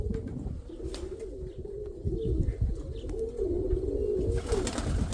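Pigeons coo in low, throaty rolling calls close by, steady and continuous with occasional faint chirps and light rustling in the background, no speech.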